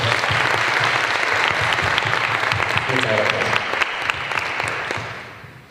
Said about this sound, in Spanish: un aplauso por favor para esta profesora